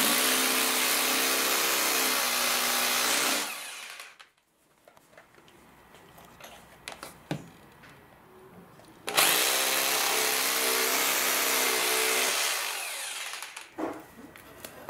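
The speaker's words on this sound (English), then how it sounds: "You need to set the drill to this middle position. This one is the drill and the hammer in one" A hammer drill bores into concrete for an anchor during a closet door installation: two long, loud, steady grinding runs separated by a quiet pause with small clicks and handling noises.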